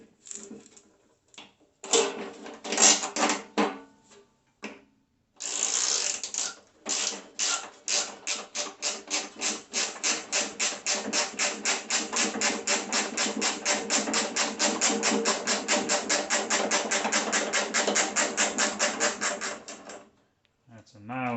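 Ratchet wrench removing half-inch nuts during a pump impeller swap: a few scattered clicks, then long runs of fast, regular ratcheting clicks, close and fairly loud, stopping near the end.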